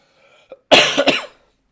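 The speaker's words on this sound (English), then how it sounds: "I have a cough and cough drop in my mouth." A single close, harsh cough with a couple of rasping bursts, preceded by a faint throat sound.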